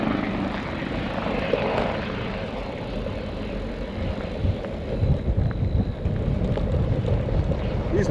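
A firefighting helicopter sets down at a wildfire staging area, its rotor a steady, fairly close roar mixed with gusty wind buffeting the microphone throughout.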